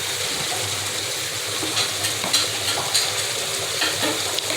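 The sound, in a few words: onions and chilies frying in fish oil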